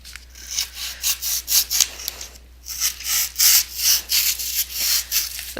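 Hand cutting and carving into foam board, a steady series of rough rubbing, rasping strokes in quick bursts, close and fairly loud with no talking.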